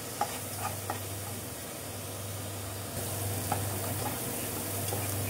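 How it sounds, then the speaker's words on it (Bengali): A chili, turmeric and coriander spice mix frying in a pan with a steady sizzle and soft scraping stirs, close and continuous without talk. "এখন ভালো করে মিশাইয়া ভালো করে একটু ভুনে নেব।"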